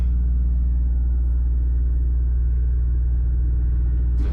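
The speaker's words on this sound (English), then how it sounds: "Oh, we got the tow truck pulling up." Heavy tow truck idling close by with a steady deep diesel rumble, a constant low drone filling the scene with no voices, pulling up beside a broken-down Peterbilt semi and trailer.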